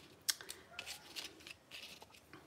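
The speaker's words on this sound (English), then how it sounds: "These are like sewing scissors." Sewing scissors handled at a craft table, giving a sharp snip near the start followed by several lighter clicks and rustles, close and fairly quiet.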